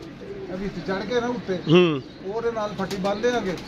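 Pigeons cooing nearby in soft repeated throaty calls, one louder coo in the middle, over faint background noise.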